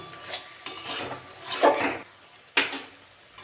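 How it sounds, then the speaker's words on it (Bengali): Spice paste with Kashmiri chili powder being stirred and fried in a pan for a chicken and potato curry, with a few scraping utensil strokes against the pan and a louder clank near the end, no speech. "কাশ্মীর লঙ্কার গুঁড়ো দিয়ে দেবো এটা কালারের জন্য ভালো করে মশলাটা কষে নেব"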